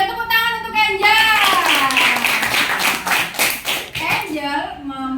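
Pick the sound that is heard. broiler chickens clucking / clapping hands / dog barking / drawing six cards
clapping hands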